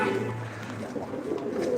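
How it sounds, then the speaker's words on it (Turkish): A roomful of about fifty-five pigeons keeps up a steady chorus of low, rolling coos, several birds overlapping close by. "Arkadaşlar 55 tane kuş var."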